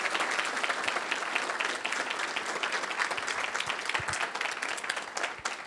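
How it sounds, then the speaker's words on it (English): A conference audience gives a sustained round of applause, many hands clapping together in a dense, continuous patter that holds steady throughout. "let's give these folks one more big round of applause for sharing their expertise"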